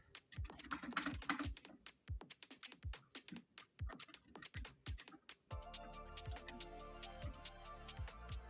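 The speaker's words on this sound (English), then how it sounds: "Now I got to check if my keyboard still works." Someone tests a computer keyboard after spilling on it, tapping keys in quick, uneven close-up clicks that become a steadier run of typing, with background music coming in partway through.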